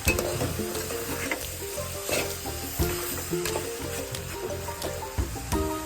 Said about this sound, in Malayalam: ഇളക്കി കൊടുക്കാം നമുക്ക്.